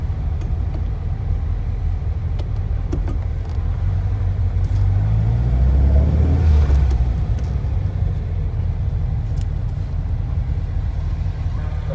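A Porsche 911 is driven on the road, with a steady, loud low engine and road rumble that swells slightly midway, heard from inside the car with no talking.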